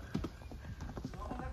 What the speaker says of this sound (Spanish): Dejamos ir los burros.